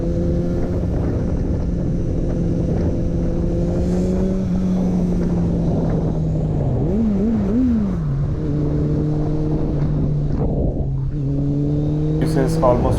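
A modified Kawasaki Z800 motorcycle with a loud aftermarket exhaust drones steadily from the rider's position, its engine note rising and dipping through quick throttle blips and gear changes, loud and continuous throughout.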